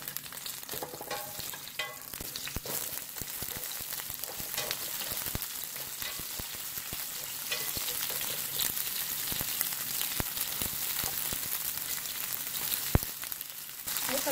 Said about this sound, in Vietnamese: áp chảo phần rau củ quả ăn kèm nhé.